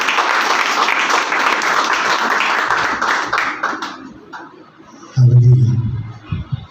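Dense crowd applause welcoming a speaker at a Hindi-language Christian worship service, loud and sustained for about four seconds, then fading into scattered claps before a low musical swell enters.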